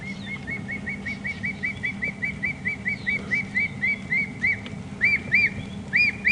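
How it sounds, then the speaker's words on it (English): A thick-knee, a nocturnal bird, calling at dusk on a safari drive in Djuma Game Reserve: a long series of shrill, rapid whistled notes that grow louder and more excited toward the end, over a low vehicle engine hum. "Oh, there's the thick-knee. Doing all the calling."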